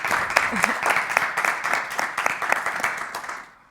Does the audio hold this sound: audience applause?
yes